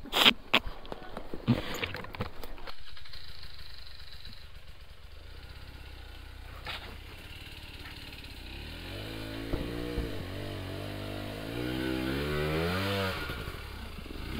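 GasGas EC300 two-stroke enduro motorcycle climbing an uphill trail through woods, its engine revving and rising in pitch toward the end, fairly close, after a few sharp knocks near the start.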